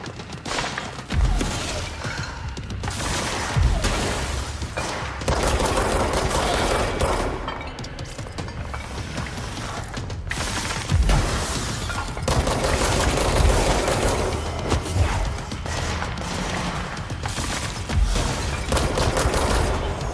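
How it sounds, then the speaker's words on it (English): Gunfire in the video game Control: repeated volleys of shots with heavy low thumps spread across a long stretch, loud and close, the bursts separated by short pauses. "maybe it's because I need to shoot him"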